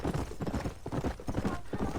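Horse hooves clopping in Red Dead Redemption, a fast, steady rhythm of close hoofbeats heard without talk.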